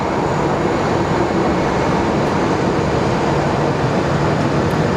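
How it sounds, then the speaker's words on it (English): American Airlines flight 854 to Madison departing Phoenix Sky Harbor International Airport on a rainy day, a steady loud broadband jet roar held evenly throughout with no talk. "our American 854 to Madison is departing"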